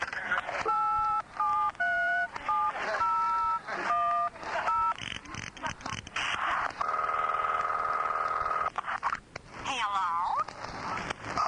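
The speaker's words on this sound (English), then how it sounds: "I'll just dial any number in the phone book" A telephone number is dialed with a series of touch-tone beeps in quick irregular bursts, followed by a steady ringback tone and more tones, moderately loud with some background noise.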